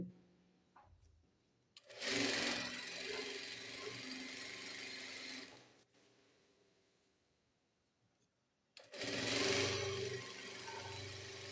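Sewing machine stitching the collar of a panjabi, running in two long bursts of steady whirring motor and needle clatter separated by a quieter pause, close and loud.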